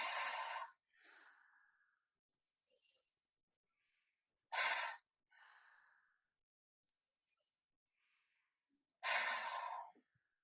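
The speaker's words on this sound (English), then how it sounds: "taking 3 deep breaths like this, each time opening and expanding" Three slow cycles of deep breathing in a calm ritual setting, each a loud inhale and softer exhale followed by a faint high breathy hiss, evenly spaced with long silences between and no speech.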